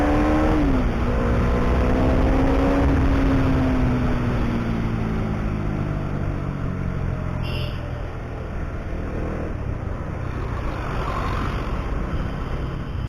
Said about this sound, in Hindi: सुबह सुबह बाइक खींचने का अलग ही मज़ा होता है यार